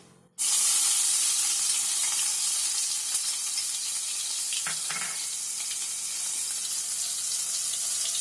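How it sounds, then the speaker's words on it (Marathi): Capsicum dropped into hot oil in a pan for Chinese-style fried rice, bursting into a loud, close, steady sizzle that keeps going without any talk. "तेल ओतलाय. आता त्याच्यामध्ये शिमला मिरची टाकते."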